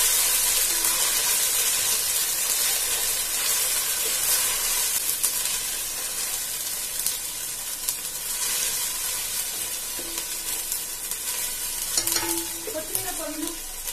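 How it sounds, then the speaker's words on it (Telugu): Ginger garlic paste fries with onions in a pan for mushroom dum biryani, a dense steady sizzle with occasional scrapes of stirring and a few light clinks near the end, close and alone without speech. "ఇప్పుడు ఇందులో మనం అల్లం వెల్లుల్లి పేస్ట్ యాడ్ చేసుకుందాము"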